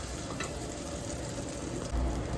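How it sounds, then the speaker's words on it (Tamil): Spice paste frying in hot oil with mustard seeds and curry leaves for appala kulambu, a steady close sizzle and crackle with a faint stirring scrape and a low thump near the end. "இந்த பேஸ்ட்டை சேர்த்துட்டு எண்ணெயிலே லைட்டாக வதக்கி விட்டுக்கோங்க"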